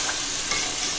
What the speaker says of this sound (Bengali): দিয়ে এখন মাংসটা কষাবো।